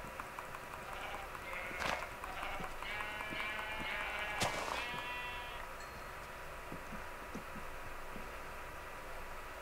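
Sheep in the Minecraft video game bleat in a couple of wavering calls in the first half, then fall quiet under faint background game sounds.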